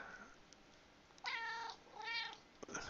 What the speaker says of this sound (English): My cat has something to say.